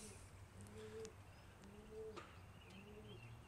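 Pigeons at a pigeon coop give soft, low, repeated coos at an even rhythm, fairly near and quiet, with faint chirps in the background.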